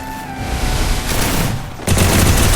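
Bursts of gunfire from a hacked-match 1 vs 3 mobile shooter game, loud and continuous, with a sharper, louder volley erupting near the end; no talking over it.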